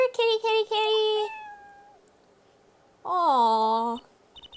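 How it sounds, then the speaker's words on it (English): Cartoonish cat meows from the Apollo Justice: Ace Attorney game: a quick burst of short meows, then a drawn-out falling mew, a pause, and one more loud, clear meow near the end. "Oh, wait, there's a cat! Look! Hey, a kitty cat!"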